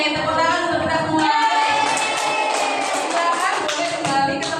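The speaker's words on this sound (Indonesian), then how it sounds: "tepuk tangan untuk kita semua" Students in a middle-school classroom clap together in a steady burst of applause, loud and close, with voices mixed in underneath.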